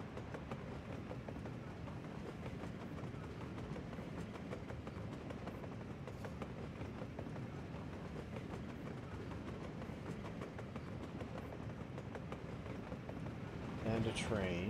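A train rolls along rails in the city-building game Workers & Resources: Soviet Republic, a faint continuous rumble with light rhythmic clatter lasting throughout, and a short burst of noise at the very end.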